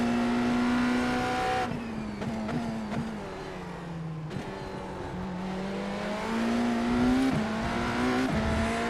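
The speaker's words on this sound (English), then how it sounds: "Spun the tires a little bit too much right there." A race car in a racing video game with its engine revving hard and its tires spinning. The steady engine drone breaks into rough bursts of wheelspin and pitch shifts, loud and close, with no talking.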